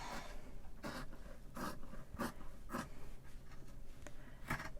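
Old, worn-out pants fabric is cut with scissors in six distinct, evenly spaced crunchy snips, close and fairly quiet.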